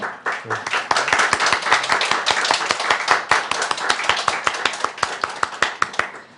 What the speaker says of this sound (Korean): 우리 박수로 환영하도록 하겠습니다